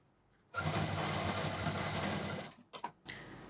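Sewing machine stitching the top finishing seam on a colourful party purse with matching thread: a fast, steady mechanical whir runs for about two seconds, then stops, followed by a few short handling bursts.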